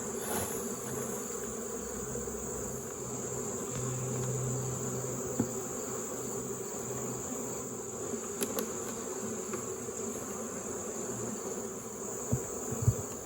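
Honey bees buzz softly around an opened hive as extra bees are dumped back in during a varroa alcohol wash, a faint steady insect drone with a few small knocks and clicks near the end.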